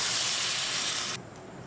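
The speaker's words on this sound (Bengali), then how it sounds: "এবার আমি এর ভেতরে দিয়ে দেবো জল।" Water poured into a hot pan of spiced potatoes and pointed gourd bursts into a loud, rushing hiss of steam, then drops off abruptly after about a second to a quieter simmer.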